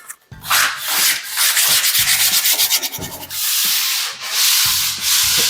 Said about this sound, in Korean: 커팅 들어간 부분에서는 좀 날카롭기 때문에 사포로 천천히